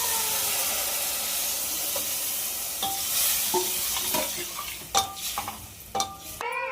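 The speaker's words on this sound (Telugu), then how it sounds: "సాంబార్ వేసుకొని మొత్తం అయితే బాగా కలిపేస్తున్నాం కదా" A spoon stirs a sizzling pan of mutton curry base mixed with homemade sambar powder, with steady frying hiss and scraping, clinking strokes that get sharper toward the end.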